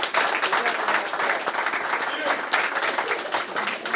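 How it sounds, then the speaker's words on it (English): A big round of applause fills a high school gym at a first-ever scholarship signing ceremony, dense steady clapping from a large crowd lasting throughout. "So I want to give a big round of applause."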